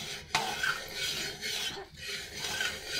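Homemade desi ghee from milk cream simmering in a pot while a spoon scrapes and stirs it, a continuous close rasping rub with a few clicks, no talking.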